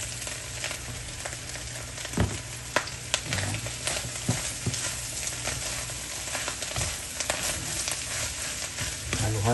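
Lechon and bamboo shoots sizzle in a frying pan as a utensil stirs them, giving a steady crackling fry with irregular scraping clicks close by.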